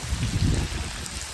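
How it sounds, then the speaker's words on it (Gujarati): Heavy rain pouring down, a brief dense wash of falling water with a low rumbling patter on surfaces close by. "વરસાદ વધી ગયો"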